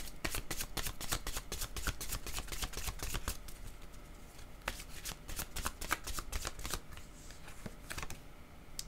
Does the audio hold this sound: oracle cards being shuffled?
yes